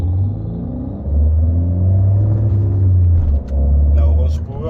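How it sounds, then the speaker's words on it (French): A Peugeot 208 GT Orange Power rumbles loudly and close, its engine droning steadily with a brief dip and resurgence like a gear change, on a road trip drive. "La Orange Power a fait du bruit"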